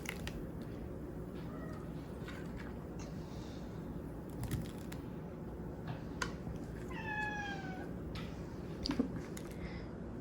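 A foster kitten meows several times in a home kitchen, short rising and falling cries spread across the stretch over a steady background hum, with faint clicks and taps nearby.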